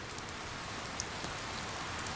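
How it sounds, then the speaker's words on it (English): Steady rain pattering on a surface, a dense continuous hiss with occasional louder drips, no voices. "let's wait for the rain to stop under here"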